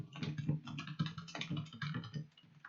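Rapid clicking keystrokes on a computer keyboard during a typing test, close and continuous, with quick irregular bursts of taps for a few seconds and no voices.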